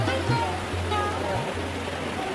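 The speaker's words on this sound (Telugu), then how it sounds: "సో ఇక్కడ మీరు చూస్తున్నారు బక్తాంగ్ వాటర్ ఫాల్స్ అంట ఇవి." Bakthang waterfall near Gangtok, Sikkim, rushing as a constant broadband roar that fills the whole stretch, steady and fairly loud.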